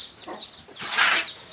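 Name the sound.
chicken clucking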